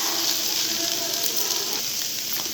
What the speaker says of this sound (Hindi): इसको 2 मिनट हम लोग फ्राई कर लेते हैं।